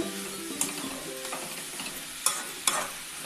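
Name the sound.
stirring pumpkin halwa cooking in a pan on high flame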